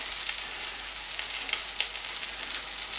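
Cut sausages fry with onions in a pan, a close, continuous crackling sizzle with small sharp spits and pops scattered throughout.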